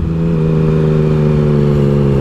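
A car drives past a rider on a motorcycle, heard as a loud, steady engine drone with a constant low hum that stays close throughout, and no voices.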